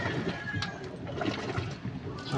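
An old LG automatic washing machine runs with a steady, loud churn of sloshing water and motor noise, continuous and close throughout.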